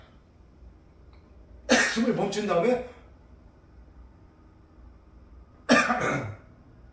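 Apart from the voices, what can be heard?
coughing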